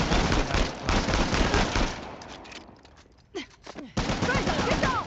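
Dense, rapid automatic gunfire in Uncharted: The Lost Legacy, loud and continuous through most of the span with a brief lull, mixed with game voices and sound effects.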